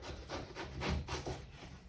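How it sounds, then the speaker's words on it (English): Knife slicing skin-on food into quarter-inch slices, a soft close rhythmic rubbing of several strokes, faint and alone. "So we go to cut it about a quarter of an inch."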